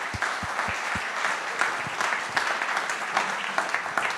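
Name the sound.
audience applauding conference speakers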